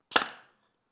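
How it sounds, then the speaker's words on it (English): A staple gun fires a galvanized staple into wood: a single sharp, close snap that decays within half a second, followed by silence. "I'm shooting a galvanized staple here."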